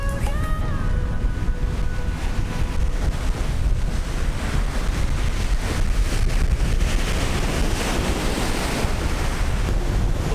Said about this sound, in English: Such a huge waves already in the middle of the day.